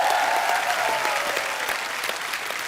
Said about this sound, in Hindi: अरे सर के लिए और काजल मैम के लिए जोरदार तालियां।